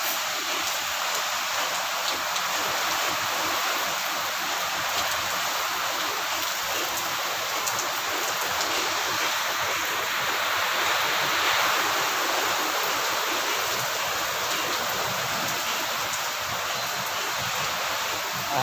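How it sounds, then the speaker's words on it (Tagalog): Heavy rain pours steadily, a constant loud hiss that doesn't let up, with no voices present. "Malakas ang ulan."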